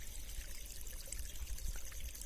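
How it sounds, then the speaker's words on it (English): A natural stream flows and trickles in a continuous, soft babble of water, faint and steady with no other sounds. "the flow of water indeed."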